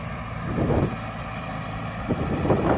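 A Mahindra tractor pulls a new cultivator through a farm field, its engine a steady low drone under gusty wind buffeting the microphone, with a few louder thumps along the way.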